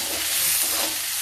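Spinach frying in a pan, a steady, bright hiss and sizzle with a soft stirring texture, close and continuous with no talking.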